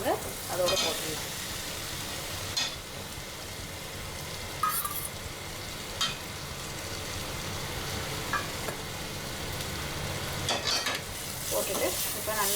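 Steady sizzling of potatoes frying in oil for potato masala, with periodic scraping and stirring sounds from a spoon in a pan, close and continuous.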